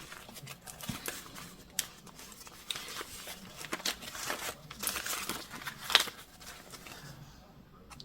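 Paper cash bills taken from a budgeting envelope are counted close to the microphone, with rapid irregular rustles and crisp flicks of notes and occasional crinkling, fairly quiet and without talk.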